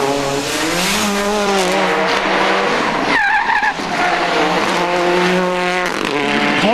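A rally car driven hard on a park stage at the 2003 Lurgan Park Rally, its tyres squealing through skids while the engine revs rise and fall, loud and close throughout.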